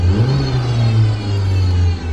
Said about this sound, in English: Sound like it got a supercharger in there.